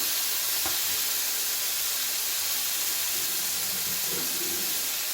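Onion, tomato and green chilli frying in a pan for capsicum curry, giving a steady, moderately loud sizzle and hiss throughout with a few faint stirring touches and no talking.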